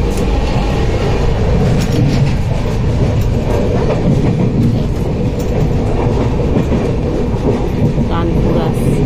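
A long-distance passenger train running from Jaipur to Howrah rumbles steadily with rhythmic wheel clatter and rattling carriages heard from inside, loud and continuous, with faint voices in the background.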